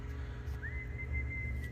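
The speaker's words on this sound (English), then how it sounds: "the whistling kept coming" A single eerie whistled note in a narrated horror story rises, then holds steady and thin above a low background drone, faint and alone without speech.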